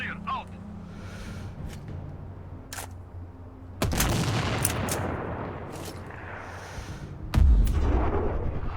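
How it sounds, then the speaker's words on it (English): Mortar fire in the video game Sniper Ghost Warrior Contracts: a deep boom lands partway through, a heavier blast follows near the end, and sharp distant shots and crackles fill the gaps. "Kilo Juliet, Tango under mortar fire."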